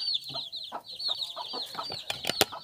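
Chickens and young fowl in a farm coop clucking and chirping in a busy, continuous chorus, with high peeping calls over scattered lower clucks, close by and fairly loud.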